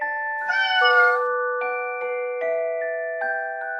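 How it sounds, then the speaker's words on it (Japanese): A kitten meows several times in a row, with clear, close, tonal calls, the first one long and wavering and the rest shorter, with no voices present. "その子猫が今そこにいるピータなんです。"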